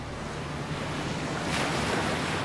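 Waves washing onto a seashore, a steady hissing surf with wind noise that swells slightly louder toward the end, heard without any voices.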